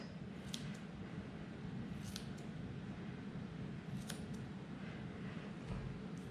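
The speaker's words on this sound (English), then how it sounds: "We've sharpened our scissors." A few faint, sharp snips of scissors cutting angora rabbit wool, spaced seconds apart, heard over a steady low rumble.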